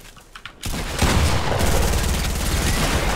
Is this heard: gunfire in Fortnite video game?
yes